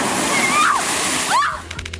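An ocean wave crashes over people posing for photos on the shore: a loud, close surge of splashing water that sweeps through and then drains away, with shrill voices crying out during the impact.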